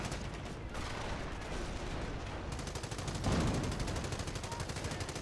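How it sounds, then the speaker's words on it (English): A .30 cal machine gun in Company of Heroes fires long, rapid, evenly paced bursts. The steady rattle runs through the whole clip, set against dense battle noise and growing louder partway through. "Panzer is getting suppressed by the 30 cal now."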